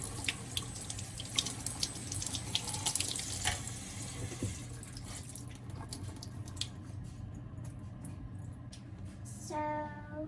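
Tap water running over cooked boba tapioca pearls in a sink, a steady close splashing stream with drips and a brief squishy handling sound near the end.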